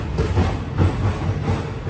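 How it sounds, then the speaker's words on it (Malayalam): The Madurai passenger train pulls out of Rameswaram station with a loud, steady rumble of wheels and carriages rolling close by, and no voices. "11:30 തന്നെ ഇതാ മധുരൈ പാസഞ്ചർ പുറപ്പെട്ടു."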